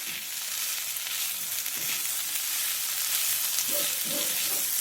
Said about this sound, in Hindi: अब उसमें अगस्ती के फूल डालेंगे, मिक्स कर लेते हैं अच्छे से